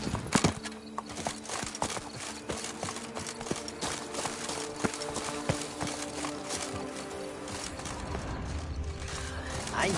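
Steady hoofbeats clip-clop at a brisk rhythm throughout in The Witcher 3: Blood and Wine, with occasional horse snorts and faint background sounds.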